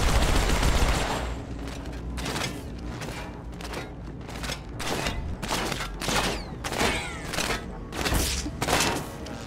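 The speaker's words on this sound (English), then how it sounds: "I think it was that Marine shooting at this dead body." Marine's gunfire in Halo 2 Anniversary at Cairo Station: repeated rapid bursts of shots, loud and close, separated by short gaps over a low background rumble.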